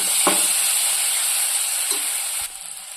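Chili powder sizzling in oil while cooking a gongura meal maker curry, a steady loud frying hiss with a few stirring scrapes of a spoon against the pan.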